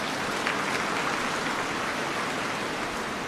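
Sustained applause from a large audience at an official ceremony, a dense even wash of clapping lasting a few seconds with no voices over it.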